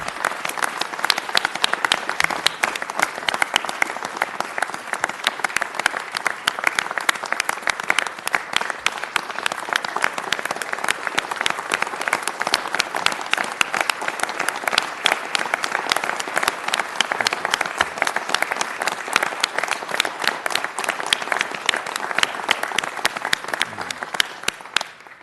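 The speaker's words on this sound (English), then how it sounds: "let's give a round of applause for our chief" A large audience applauds a police chief, dense sustained clapping that holds steady and loud for the whole stretch, with faint crowd murmur underneath.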